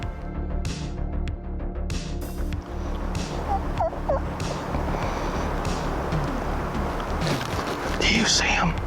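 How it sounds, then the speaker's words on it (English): Two wild turkey gobblers gobbling during an Alabama turkey hunt, rattling gobbles ringing out over outdoor ambience with soft whispered talk close by. "It's two gobblers."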